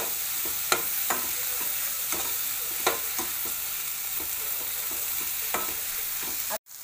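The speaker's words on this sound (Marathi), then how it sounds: "मिक्स करून घेते सगळं।" Paneer bhurji masala is frying in a pan and being stirred. A constant sizzle sits under regular scraping strokes of a spatula, and the sound cuts off abruptly at the end.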